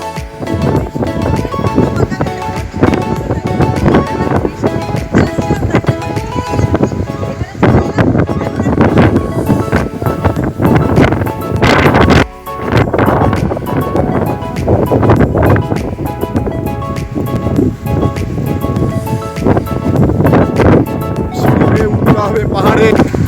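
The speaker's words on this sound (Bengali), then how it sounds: "আর প্রচণ্ড হাওয়া, আদৌ কিছু শোনা যাচ্ছে না" Strong wind gusts across a lake, roaring and buffeting the microphone in heavy, near-continuous blasts, with choppy waves rolling on the water beneath.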